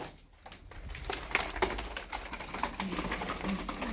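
Tumbler pigeons, including a smoky mirror-tail, coo softly and repeatedly in a loft amid rustling and shuffling, the calls low and close.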